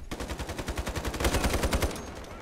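Rapid automatic fire from an AR-57 rifle in a free first-person shooter game, a steady run of close, loud shots about every tenth of a second that thickens into a dense burst before easing off.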